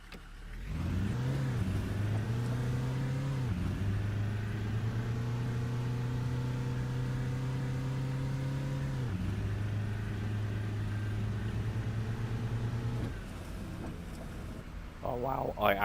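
A BB40 coach engine from Fernbus Simulator runs steadily at close range, its low droning note climbing through gear changes near 4 and 9 seconds before easing off near the end.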